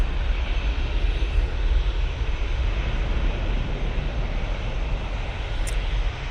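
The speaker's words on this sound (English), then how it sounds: "Realised there was another aircraft." A jet airliner at an airport produces a loud, steady, broadband engine roar with deep rumble, holding constant throughout with no speech.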